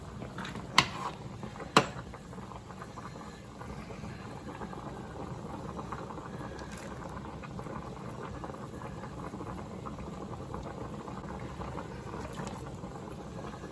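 A pot of water with pasta bubbles at a steady, quiet rolling boil, with a couple of sharp clicks near the start and no talking.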